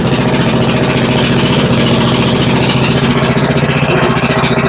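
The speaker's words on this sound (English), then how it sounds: "I hear an exhaust leak" A Briggs & Stratton Intek small engine with an exhaust leak runs close and loud, a steady rapid putter with a rough, ticking edge throughout.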